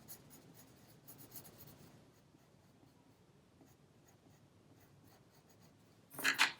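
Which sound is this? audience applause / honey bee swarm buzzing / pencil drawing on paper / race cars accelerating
pencil drawing on paper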